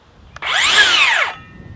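A DeWALT FlexVolt cordless circular saw spins up with a loud rising whine, runs briefly and drops in pitch as the electronic brake halts the blade in under a second, close and alone.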